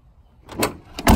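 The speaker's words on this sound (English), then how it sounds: "The door is all shut, nice and flush." A door on a 1988 Land Rover Defender 130 V8 overlander swings shut in two close, solid thuds, the second louder and heavier, heard up close with no talking.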